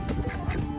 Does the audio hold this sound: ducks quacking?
yes